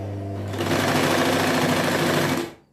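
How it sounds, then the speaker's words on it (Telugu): An Usha Stitch Queen sewing machine running a straight stitch, a loud, close, steady mechanical whir that starts after a brief low hum and cuts off sharply at the end. "ఇక్కడ దీన్ని బీలోకి పెట్టి కుడతానండి ఒక సైడ్కి అదే వెంటనే స్ట్రైట్ కుట్టు పెడతానండి"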